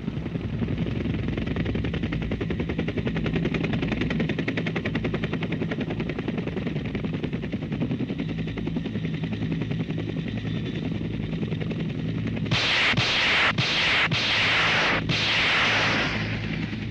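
ASR air-to-ground rockets fired from an HU-1 helicopter during a test at a training range, a sustained loud roar of rotor and engine noise followed by several sharp, bright bursts in quick succession.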